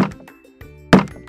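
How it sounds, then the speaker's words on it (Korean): A hammer strikes wood while a child learns carpentry in a workshop, giving a few close, dull thunks, with one sharper, louder blow near the end. "그렇게 조심히 잡고 중심에 쾅쾅 하는 거란다"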